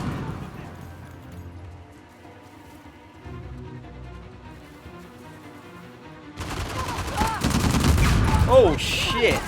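Heavy gunfire from a large weapon in Uncharted: The Lost Legacy erupts loud and dense in the last few seconds, following a quieter stretch of game ambience and score.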